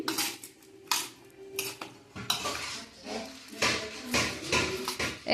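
A spoon scrapes and clanks against a pan while ridge gourd curry is stirred and mixed, giving irregular metallic knocks and scrapes at close range with no talk.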